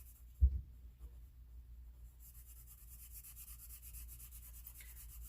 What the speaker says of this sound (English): Just like pencils, we are layering our markers.